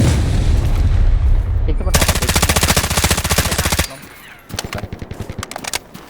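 Rapid automatic gunfire from the Delta Force video game, loud sustained bursts followed by shorter separate volleys of shots, with faint voices in the background.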